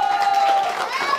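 Crowd at a 10 km running race awards ceremony applauds and cheers briefly, a dense burst of clapping with some voices beneath.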